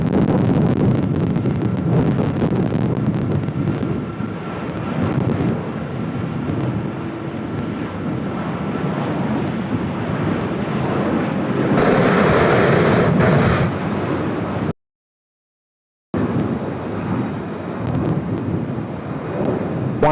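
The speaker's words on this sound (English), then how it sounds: "Here we go, Vietjet on the roll, off to Ho Chi Minh City as well." A Vietjet Airbus A330-300 with Rolls-Royce engines and Coca-Cola livery on its takeoff roll at Sydney Airport, a loud, broad engine roar with wind buffeting the microphone and a swell near the end.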